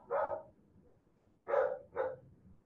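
An AI-generated dog bark: three sharp barks, one early and then a close pair after a pause, clear and fairly near with no talk.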